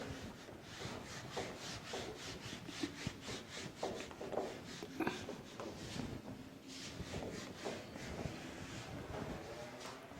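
Chalk or writing being rubbed off a classroom board during a Class 10 trigonometry lesson, a steady scraping, rubbing swish repeated in quick strokes, close and fairly loud, with no voices.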